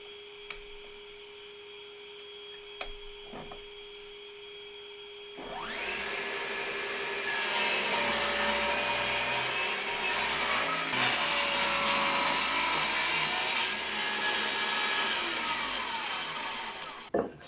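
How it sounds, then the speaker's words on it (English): A table saw spins up with a rising whine and then rips strips of wood for a kitchen knife storage block, a loud, steady, close buzzing cut lasting several seconds with small shifts in pitch as the board feeds through. "set the fence, make a rip, and then keep bumping the fence over so that the waste is always on the other side of the blade"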